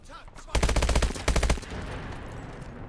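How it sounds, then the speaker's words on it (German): Automatic gunfire in the video game Call of Duty: Advanced Warfare, two rapid bursts of loud rattling shots with a brief gap between them, ending in a reverberant fade. "Bevor ich da wieder auf den anderen schieße."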